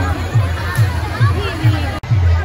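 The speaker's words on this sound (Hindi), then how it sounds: "दशहरे वाले दिन बहुत ज्यादा भीड़ है" A dense crowd murmurs at a busy Dussehra fair, many voices blending into a steady outdoor babble with a soft rhythmic thump pulsing underneath.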